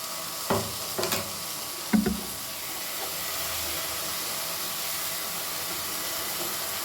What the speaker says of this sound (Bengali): ভেন্ডিটা হালকা ভাজা ভাজা হয়ে গেছে, এই মশলাটা এর মধ্যে অ্যাড করে দিচ্ছি